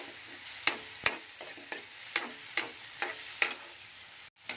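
Sponge gourd and pork lechon sauté in a hot pan, a steady sizzle broken by about a dozen regular clinks of the stirring utensil against the pan, close up with no talk.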